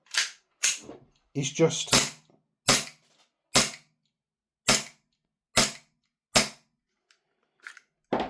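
A Tokyo Marui USP Compact gas blowback airsoft pistol fires about ten sharp, loud, evenly spaced shots. Each shot is a crisp snap with a short mechanical clack, and a brief bit of speech comes between them.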